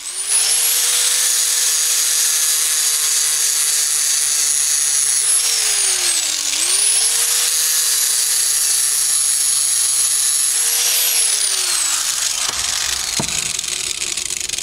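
Steady, loud grinding of a lawnmower blade being sharpened, a continuous abrasive whine held for long stretches with brief dips as the blade is lifted and repositioned, ending in a short knock.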